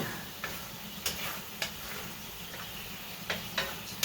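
A chili pot being deglazed, with a soft steady sizzle beneath several sharp spoon taps and scrapes against the pot, spaced irregularly and heard close.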